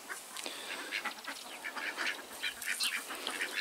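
Ducks huddled in the corner of a farmyard pen quack in a busy overlapping chatter, moderately close, steady throughout, with a faint honk or two mixed in and no talking.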